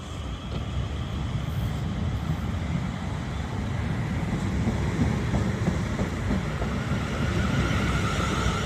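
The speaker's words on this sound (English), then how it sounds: "They're heading on the 1813 South Western Railway service from London Waterloo to Portsmouth Harbour." A South Western Railway Class 444 train on a London Waterloo to Portsmouth Harbour service runs past with a loud, sustained rumble and wheel-on-rail roar that holds steady throughout.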